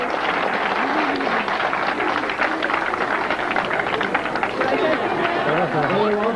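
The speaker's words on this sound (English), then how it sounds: "And that's her message for" Crowd at the Clark's Trading Post trained bear show, 1999, applauding and chattering in a steady, dense wash of claps and voices that stays loud and even throughout.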